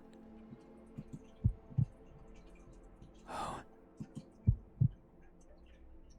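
Pulsing heartbeat thuds in the horror video game Don't Open Your Eyes, a few soft double beats spaced across quiet ambience, broken by a breathy sigh and a brief spoken exclamation.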